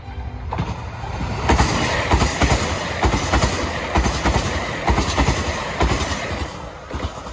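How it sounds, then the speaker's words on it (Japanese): Super Hakuto express train passing on the Inbi Line, a loud, close rush of rolling wheels with rhythmic clickety-clack beats over rail joints, swelling and then holding steady as the carriages go by. "そして直線の向こうからスーパーハクトがやってまいります。"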